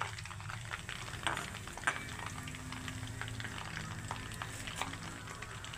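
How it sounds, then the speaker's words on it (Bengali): Cardamom and bay leaves crackle and bubble steadily in leftover chicken-frying oil, a soft, continuous sizzle with a few sharper pops and no talking. "ওই চিকেন ভাজার তেলেতে আমি দিয়ে দিচ্ছি এলাচ আর তেজপাতা ফোড়নে দিয়ে দিচ্ছি"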